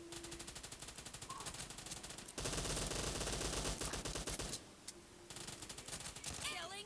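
Rapid, sustained bursts of Uzi submachine-gun fire in the PUBG Mobile video game, loud and close, with a short pause before the firing resumes.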